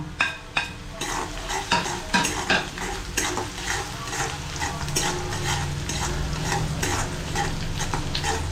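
Cumin, dried red chillies, onion and garlic fry in oil for masoor dal bhuna, a close, busy sizzle broken by repeated spatula scrapes and pan knocks, no talking.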